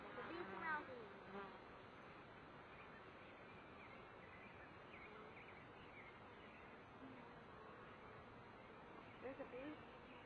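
Honeybees buzzing around a two-frame mini mating nuc, a continuous faint drone with a few closer passes near the start and end, and people talking quietly in the background.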